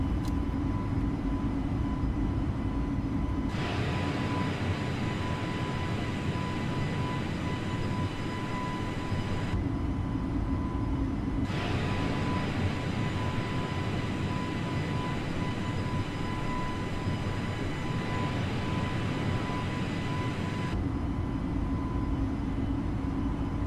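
Simulated airliner climbing out after takeoff in Microsoft Flight Simulator, departing Tegucigalpa: a steady, loud engine drone with a constant tone, holding evenly throughout with broadband rumble and no speech.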